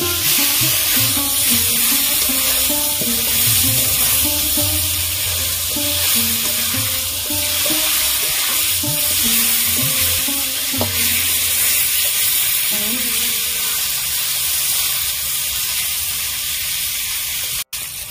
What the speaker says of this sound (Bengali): বাকিগুলো ভেজে নেব। আবার আমি এইভাবে নাড়তে থাকবো।